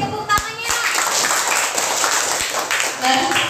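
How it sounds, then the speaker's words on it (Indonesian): A class of schoolchildren gives a short burst of clapping, with a few sharp isolated claps at the start and a brief scattered patter of hands mixed with kids' voices. "Oke, tepuk tangannya."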